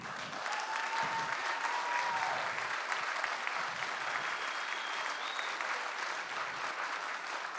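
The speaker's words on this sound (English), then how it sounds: "let's do one big round of applause really quick for everyone that's given tonight" Sustained applause from a large crowd, steady and full for several seconds without pause.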